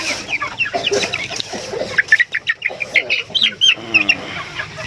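Newly moved chicks and chickens cluck and peep close by in a busy, overlapping chorus of short calls, with a brief rooster-like call among them.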